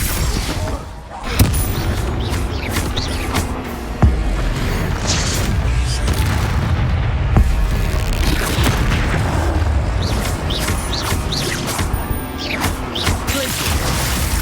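Confringo explosion spells blast repeatedly in the video game Hogwarts Legacy, loud booming impacts and crashes piling up with spell effects in continuous chaotic combat.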